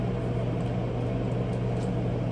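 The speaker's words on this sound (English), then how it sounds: "There's vegetables in the microwave, so I can, you know, be a little balanced." A microwave oven running with vegetables inside, a steady low electrical hum with a constant drone and faint higher whine, unchanging throughout.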